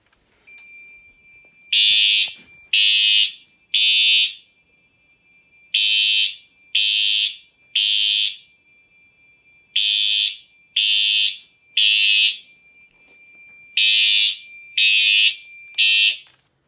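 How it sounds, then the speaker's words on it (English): A smoke detector alarm blares during a fire alarm system test, sounding a loud, shrill tone in repeating groups of three evenly spaced blasts with pauses between the groups. No voices are heard over it. "And now we'll test the smoke detector."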